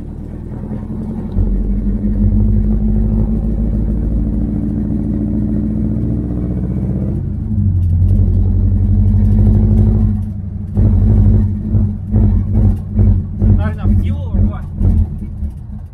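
A carbureted Ford Mustang II engine idles roughly with a deep, uneven rumble, then sputters and revs in choppy bursts, close by.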